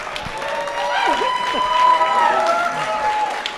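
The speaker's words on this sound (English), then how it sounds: "Thank you for the round of applause" An audience at a cleantech startup pitch night and investment summit claps and cheers, a dense crowd noise with whoops mixed in and voices underneath.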